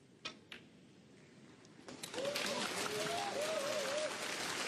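Snooker crowd at the Xi'an Grand Prix applauding Ronnie O'Sullivan's century break, a few sharp claps first, then sustained broad applause that swells and holds steady, with a faint tonal line running through it.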